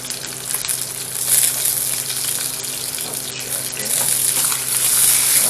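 Salmon fillet searing in a hot pan, giving off a steady, loud, close sizzle that swells slightly toward the end, with no talking.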